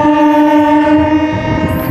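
Vande Bharat train accelerating away from Nidubrolu station, a loud close electric hum with steady tonal whine and rising rumble, a brief high whistle-like tone entering at the end, no talk.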